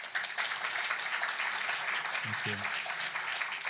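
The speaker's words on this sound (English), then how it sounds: "Let's give them a round of applause." An exhibition audience claps for a team in a continuous stretch of moderate applause, with a brief spoken remark partway through.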